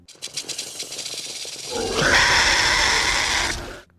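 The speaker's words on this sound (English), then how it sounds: "the spitting Dilophosaurus noise were made up of swan calls, hawk screeches, rattlesnake hisses, and howler monkeys" A Dilophosaurus movie sound effect built from swan calls, hawk screeches, rattlesnake hisses and howler monkeys: rattling clicks build into a loud, harsh hissing screech that holds for a couple of seconds, then cuts off abruptly.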